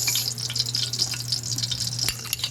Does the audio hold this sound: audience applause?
no